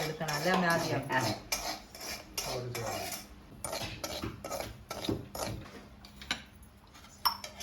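Semolina (rava) dry-roasting in a pan, stirred with a metal spoon that scrapes and clinks against the pan in steady, repeated strokes, close and fairly loud.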